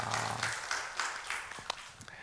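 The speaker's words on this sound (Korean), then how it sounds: "하나님께 영광의 박수를 드리겠습니다." Applause from a church congregation rises briefly as a fairly faint, rhythmic patter of clapping hands, heard from a short distance and fading toward the end.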